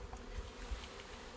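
A swarm of 10,000 to 15,000 honey bees hums steadily while being dumped into a new hive during a spring install, a dense close-up drone with no voices.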